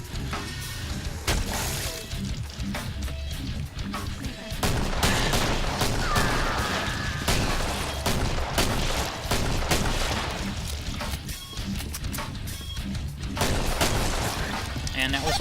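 Rapid gunfire from the co-op zombie shooter Killing Floor, with dense, continuous volleys of shots and booming impacts throughout, loud and close, layered with other game noise and a voice talking over it.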